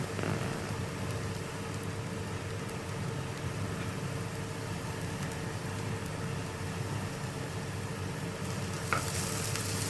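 Green chillies and curry leaves sauté in hot oil in a pan for an egg curry, making a dense, constant sizzle close by that swells briefly near the end.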